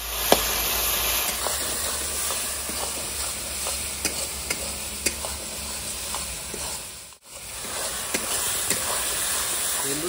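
Spice masala frying in a pan after a splash of water, a steady loud sizzle and hiss with occasional stirring clicks and scrapes, briefly dipping once before resuming.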